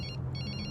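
A telephone bell rings in a steady repeating pattern with one short pause partway through, heard alone against a low background hum in a film scene.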